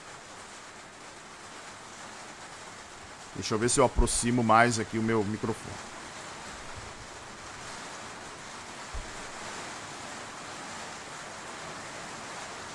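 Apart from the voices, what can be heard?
heavy rain falling outside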